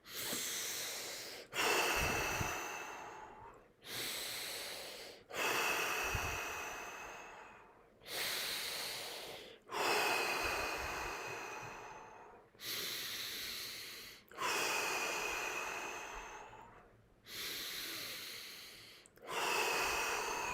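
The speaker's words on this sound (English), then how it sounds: "For now, just keep on breathing." Deep, slow breaths during a breathing exercise, about eight long inhale-exhale cycles in a steady rhythm, close and clear with no talking.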